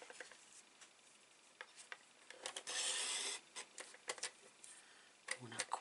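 Paper is trimmed for a folded greeting card with one short scraping cutting swipe, surrounded by faint close taps and handling rustles.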